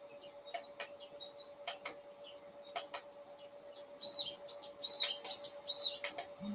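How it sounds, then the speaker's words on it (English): One bird chirps loudly indoors in a quiet room, giving sharp, repeated tweets that come in irregular clusters, louder toward the end, over a steady faint hum. "that bird loud as fuck"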